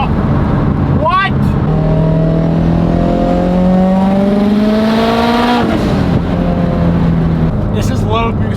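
A 1,000 hp Subaru STI running a 30 psi low boost map on ethanol accelerates hard, its engine note climbing steadily through a long pull, with a brief gear-change break and a second shorter surge, loud and close.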